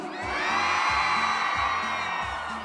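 Crowd at a live show in Oaxaca erupting into loud cheers, screams and whoops that swell and hold as a continuous roar over a pounding rhythmic music beat.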